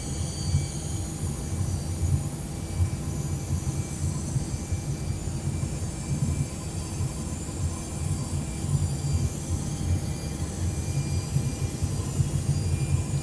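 Simulated Airbus A321-200 jet engines at high climb thrust in X-Plane 11, a steady loud low roar with broadband rush running unbroken throughout.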